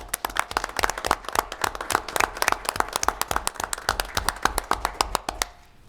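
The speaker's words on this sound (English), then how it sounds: "So let's give them a round of applause." A small group at a school board meeting claps in a sparse, distinct round of applause, individual hand claps clearly separated and fairly close, fading out abruptly at the end.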